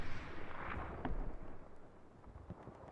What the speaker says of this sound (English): the first shell is gonna fly